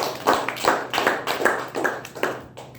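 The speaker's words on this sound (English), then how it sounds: "Good round of applause." A small group at a Toastmasters club meeting claps in a sparse, rhythmic pattern, about seven distinct, fairly close hand claps repeating at a steady beat without talk.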